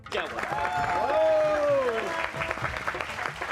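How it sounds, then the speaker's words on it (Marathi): A crowd claps for two winning wrestlers at a wrestling event, dense applause throughout while a voice talks over it in a TV serial scene. "मी सगळ्यांना विनंती करतो की टाळ्या वाजवून त्यांचं कौतुक करावं"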